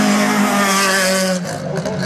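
A Renault Clio race car roars past at a hillclimb, loud and close, its engine note falling as it passes, with no talking.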